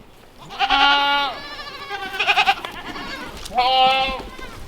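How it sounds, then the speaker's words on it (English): Baby goats around a fresh brush pile bleat three times, clear and close, with wavering nasal cries separated by short pauses. "the baby goats love the new brush pile."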